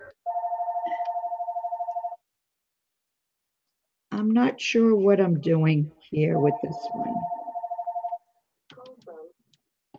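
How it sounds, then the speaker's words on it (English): A telephone rings indoors during a fabric-tag crafting session, two long bursts of steady electronic ringing separated by someone talking, with more speech following. "Sorry for the phone ringing"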